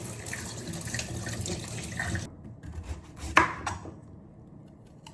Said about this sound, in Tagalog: Hugasan muna natin ang mga babalakin.